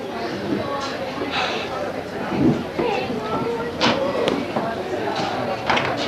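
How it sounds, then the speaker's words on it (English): A train rumbles past near a porch in Denver's LoDo district in 1990, a steady rolling clatter with occasional knocks and thumps. Voices are heard faintly alongside it. "Wonder if that train goes to New York."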